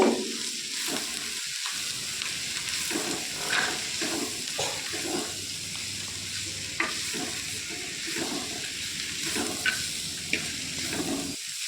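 Onions frying in a little oil with salt, with a steady close sizzle and frequent scraping and clattering strokes of a spoon stirring them throughout.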